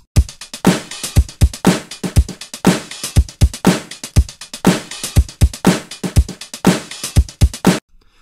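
A looped Apple Loops drum track plays back, a steady punchy beat of kick thumps and crisp snare and hi-hat hits in a repeating groove, loud and alone with no talking, stopping abruptly at the end.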